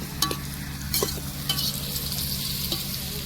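Onions sautéing with cinnamon bark in a pan for a chicken curry, a steady close sizzle with occasional sharp taps and stirring scrapes, no talk.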